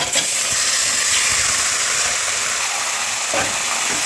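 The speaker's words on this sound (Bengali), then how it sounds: "আমি এবারে এটা কষিয়ে নেব," Marinated chicken sizzles in a hot wok (kadai) for a thin chicken curry, a loud, steady hiss of frying that runs unbroken close by.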